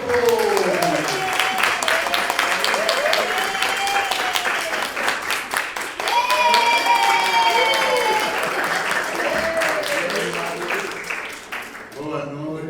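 Applause from a seminar audience at a Brazilian round-table on teaching and research, sustained and fairly loud for about twelve seconds with voices calling out over it, fading near the end.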